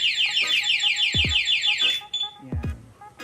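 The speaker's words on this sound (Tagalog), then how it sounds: "Pag isa pang galaw, doon na po mag-a-alarm yung remote," Sniper 155 motorcycle anti-theft alarm blares a fast, rising-and-falling electronic siren up close for about two seconds, with short clicks and beeps around it and no talking.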